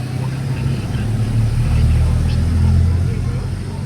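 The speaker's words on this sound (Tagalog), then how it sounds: "Kami po ay nandito na sa tricycle." Engine of a motorized tricycle while riding, a loud continuous low rumble and drone that holds steady throughout, close by with no break.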